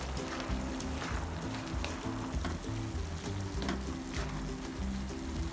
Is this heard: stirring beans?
yes